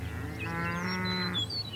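A cow on a cattle ranch in Mount Pleasant, northeast Texas, gives one long, loud, close moo over a low steady background.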